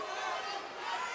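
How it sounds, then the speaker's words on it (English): An active crowd at an MMA fight fills the space with a dense, continuous roar of overlapping shouts and chatter, heard at a moderate distance for a brief stretch. "Crowd is definitely active for this one."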